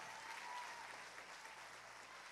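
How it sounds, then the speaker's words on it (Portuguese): A church congregation applauds in a continuous, even wash of clapping heard from some distance, faint and steady throughout with a little crowd murmur beneath. "Alguém dá um aplauso bem forte para Jesus."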